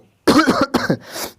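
A person with a cold coughs several times in quick succession, harsh and close, with throat-clearing rasps trailing off at the end.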